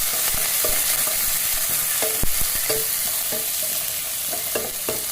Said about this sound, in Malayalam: ഉള്ളി, പച്ചമുളക്, കരിവേപ്പില ഇട്ട് കൊടുത്ത്